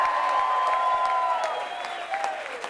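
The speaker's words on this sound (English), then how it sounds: "Let's give her a round of applause" A political rally crowd at a Bill Clinton early voting event applauds a party chairman, with steady massed clapping and scattered cheers and whistles, heard from a slight distance and fading a little toward the end.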